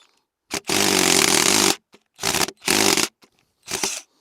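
A cordless drill whirs in several short bursts: one long run of about a second, then three brief pulses, each stopping abruptly, with silence in between.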